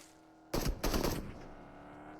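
Gunfire in the video game PUBG: two short, loud bursts of rapid automatic fire in quick succession, then a fading tail over a low background hum.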